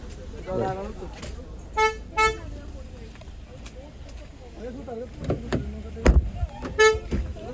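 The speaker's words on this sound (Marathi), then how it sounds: "आता ट्रॅफिक तर आहे बाई गाड्या फिरतात" Busy street traffic in Mahabaleshwar with passing cars, a few short horn toots, and people talking over the engine rumble.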